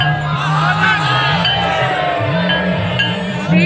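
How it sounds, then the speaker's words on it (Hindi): Dense crowd chatter fills a Ganga Aarti gathering on Mauni Amavasya's Dev Diwali, a steady loud murmur of many voices with occasional brief clinks and distant calls running throughout. "तो कितना भीड़ है"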